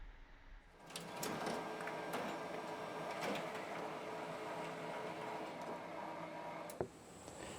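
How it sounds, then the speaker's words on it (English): A home printer runs through a job, printing a paper fretboard template with a steady mechanical whir and faint clicks. A sharp clunk comes near the end. It is fairly quiet and close, with no talk. "I hit the print button, and as simple as that, my fretboard template comes out on the printer."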